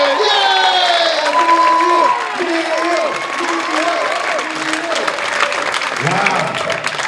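A theatre audience in Brampton applauds and cheers loudly for a comedian, with dense steady clapping, whoops and shouts throughout, while an announcer's voice rings over the crowd.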